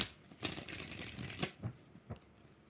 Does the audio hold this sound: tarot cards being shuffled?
yes